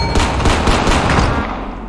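Rapid bursts of DMR rifle fire from Call of Duty Warzone, loud and dense for about a second and a half with overlapping shots, then tapering into a quieter tail.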